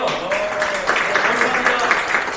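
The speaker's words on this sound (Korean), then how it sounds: "박수로 화답해 주십시오." Applause from party members at a political party's city chapter gathering in Incheon, a dense steady patter of clapping throughout, with a voice and some tonal sounds mixed in underneath.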